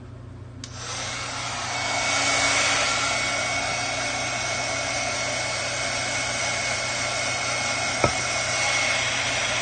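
A handheld hair dryer starts abruptly and runs as a steady whirring blow for several seconds while drying ink on a craft piece, with a single sharp click near the end.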